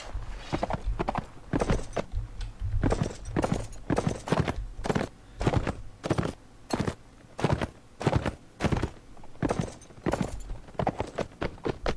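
Horse hooves clip-clop in the video game Gekokuju, a steady walking rhythm of hollow thuds repeating clearly throughout, with no talking.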